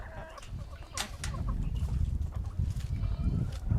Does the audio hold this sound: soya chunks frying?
no